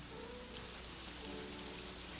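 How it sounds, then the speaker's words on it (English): Pouring rain from the Blue's Clues episode Stormy Weather, a dense, steady hiss of heavy rainfall on surfaces, continuous and enveloping with no voices. "Still raining. Cloudy skies and pouring rain don't always have to be doom and gloom."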